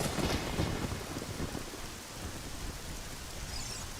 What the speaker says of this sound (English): How about some nice rain sounds? Oh, and thunder.